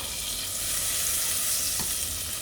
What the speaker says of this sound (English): We need to cook the onions, so probably like, yeah. Need some butter.